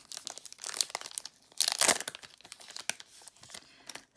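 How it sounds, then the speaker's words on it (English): Foil wrapper of a Pokemon card booster pack being torn open, crisp crinkling and tearing in uneven bursts with a loud rip near the middle, close up with no talk. "How do we open Pokemon cards now?"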